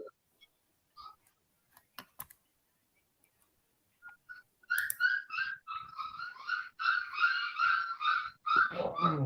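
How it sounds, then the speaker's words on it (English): Puppies whimpering indoors, a run of high, thin whines and yelps in quick clustered bursts that grows more insistent after a few quiet seconds of faint clicks and scattered sounds. "I'm gonna shut the door because they damn puppies in there"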